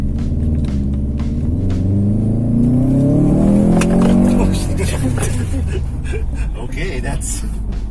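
Turbocharged 2011 Subaru Forester accelerating on a test drive, engine note rising steadily in pitch as it pulls harder, loud cabin rumble, then easing off near the end.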